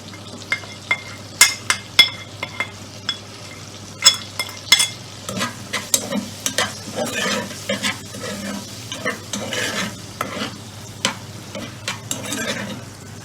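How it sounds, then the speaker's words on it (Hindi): Sausages frying in a pan while pasta is being prepared, with steady sizzling and repeated scraping, stirring clatters that grow busier toward the end, heard close with no talk. "सॉसेजेस भून गए हैं, ड्राई मसाले जा सारे ऐड कर देंगे।"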